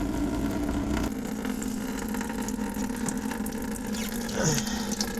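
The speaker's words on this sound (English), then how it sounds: "and that'll let the fluid out. And while that's draining" Radiator fluid drains steadily from a Toyota 4Runner/Tacoma during a radiator replacement, a continuous close splashing, pouring rush that holds at an even level throughout with no talk.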